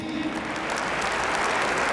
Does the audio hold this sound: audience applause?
yes